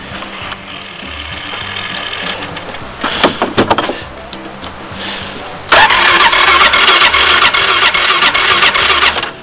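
A four-wheeler's starter cranks with a whirring, ratcheting churn, faltering and restarting without catching, then grinding on loudly and steadily at close range.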